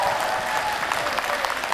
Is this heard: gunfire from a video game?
no